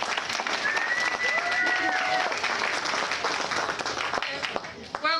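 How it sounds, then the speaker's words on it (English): An audience at an evening benefit event breaks into sustained applause, dense clapping from many hands lasting several seconds, with voices and a few cheers mixed in before it thins out. "So I'd like you to give a round of applause to Rima."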